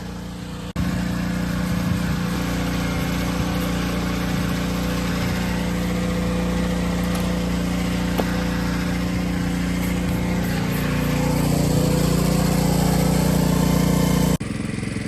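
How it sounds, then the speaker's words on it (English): Constant motor drone of a pressure washer blasting grease off 2005 Land Rover LR3 valve covers in a shop, a steady engine hum with a hissing spray layered on top, running nearly unbroken and fairly loud. "So we're power washing the valve covers because they was real bad"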